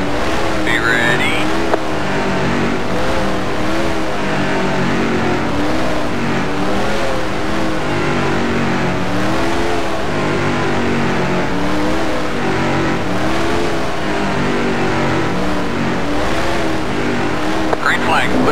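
A field of NASCAR Racing 2003 Truck Series race cars at Talladega accelerating in a pack at the green flag, a dense, continuous loud engine roar with layered revving tones throughout.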